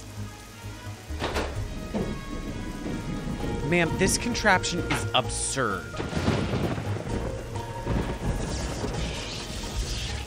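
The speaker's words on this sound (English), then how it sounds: "it had to be happening on a stormy night" Steady rain with rumbling thunder during a stormy night in a Nancy Drew game, heard under someone talking.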